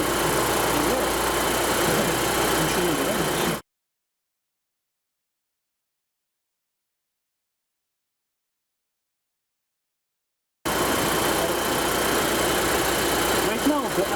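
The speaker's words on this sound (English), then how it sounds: "Right now we will start the vehicle" A Volvo XC engine idles steadily nearby with a constant low rumble. A stretch of total silence several seconds long splits the idle in the middle.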